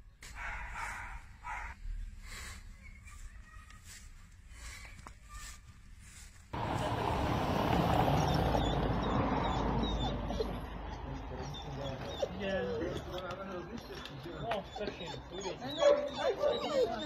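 A dog recovering from a broken thigh bone barks and whimpers in short yips and whines, close by, over a noisy background with a person talking.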